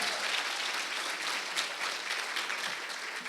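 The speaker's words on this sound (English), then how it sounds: "Tonight, let's give them another round of applause." Steady, full applause from an audience at a teacher of the year celebration, sustained clapping filling the room throughout with no pauses.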